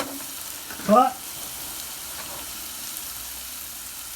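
Food sauteing in a hot pan, a steady background sizzle with a brief spoken word near the start, moderately loud and continuous.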